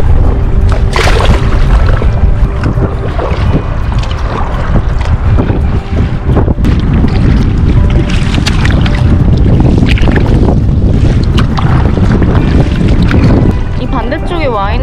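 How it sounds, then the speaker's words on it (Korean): Big waves crash and churn near a camping spot in Peachland, Canada. The water roars continuously and loudly, and strong wind buffets the microphone throughout. "와, 파도 엄청 무섭게 온다."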